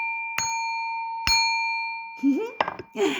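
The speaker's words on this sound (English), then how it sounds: "I want to chime us in" Two bright metallic chime strikes ring out one after another to open a tarot reading, each tone sustaining and slowly fading before a voice starts talking.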